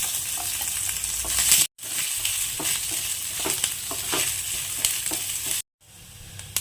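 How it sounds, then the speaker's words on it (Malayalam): Coconut pieces fry in ghee with a loud, steady sizzle, broken by frequent stirring scrapes and two brief cuts to near silence. No voices are heard. "തേങ്ങാക്കൊത്തും നെയ്യിൽ നന്നായിട്ട് വറുത്തെടുത്തിട്ടുണ്ട്"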